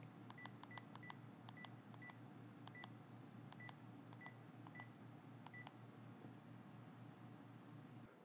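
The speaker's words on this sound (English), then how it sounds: "Once you have the dial tone, you can dial the number." Touch-tone dialing beeps from a Panasonic KX-TGM450S cordless phone, a quick series of short, evenly spaced key tones over a steady low hiss, fairly faint and with no talking.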